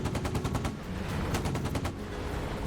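Rapid bursts of 30mm cannon fire from an Apache helicopter in the DCS combat flight simulator, a loud rattling stream of shots with impacts layered over a constant engine and rotor drone.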